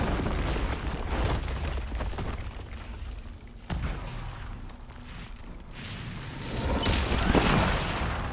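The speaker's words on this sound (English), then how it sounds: "Pretty nice explosion effects." Explosions in the video game Dragon Age: Inquisition, a series of booming blasts and crackling bursts, loud and close, with rumbling debris swelling again toward the end.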